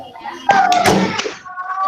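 A single sharp clap from children playing a classroom clapping game, landing close and loud amid a voice.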